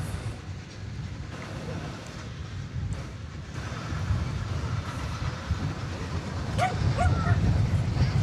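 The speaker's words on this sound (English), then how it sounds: "I hear a dog." A dog barks a few times near the end, somewhat distant, over the steady low rumble of a night scene at Dallas Fort Worth airport.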